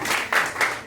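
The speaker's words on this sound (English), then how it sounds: "A round of applause for you." Brief burst of audience applause in a comedy club, close and moderately loud clapping that swells in quick waves before cutting off.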